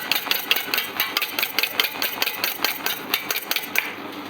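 Génoise batter being beaten continuously in a steady fast rhythm of repeated close clicking whisk strokes, bright and even, with no voices.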